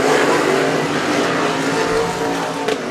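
Sprint cars roar around the Stockton 99 Speedway oval, a loud, continuous blended engine drone from the racing pack with no talk.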